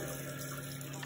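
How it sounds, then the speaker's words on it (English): Tap water runs steadily into a sink or basin in a shower area while adding water to a skincare routine with a Garnier Vitamin C Even & Matte product, a continuous close hiss filling the full moment. "Let's add a little bit of water"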